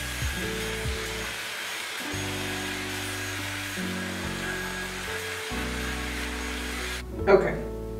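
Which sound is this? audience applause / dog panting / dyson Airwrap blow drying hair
dyson Airwrap blow drying hair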